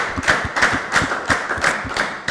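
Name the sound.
audience applauding the speaker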